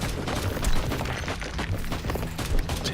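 Rapid, dense gunfire from the video game Warhammer 40,000: Inquisitor - Martyr, a loud, continuous volley of overlapping shots and booming impacts lasting the whole stretch.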